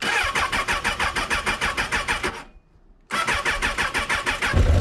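A motorcycle engine cranked over with choke on, rapid rhythmic starter chugging for a few seconds, a brief pause, then another loud, close run of cranking that catches toward the end.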